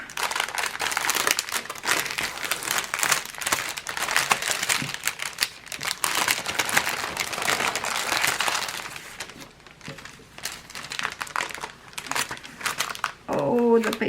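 A plastic bag crinkles and crackles repeatedly while an embroidery kit is unpacked, with steady rustling handling noise through most of the stretch and a voice speaking briefly near the end.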